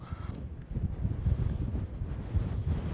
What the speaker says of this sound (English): It is still quite windy.